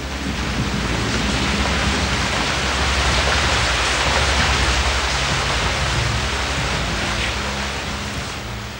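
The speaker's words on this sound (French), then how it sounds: "des torrents de pluie se sont abattus sur la surface encore brûlante" Torrential rain pours down onto the still-scorching surface of the young planet, a dense, steady, loud roar of falling water with no pauses.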